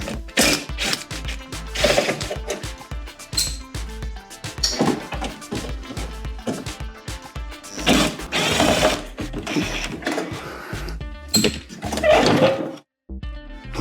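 A ratchet removing screws on a Porsche 914 during a teardown, with repeated bursts of quick, loud clicking close up and short pauses between them.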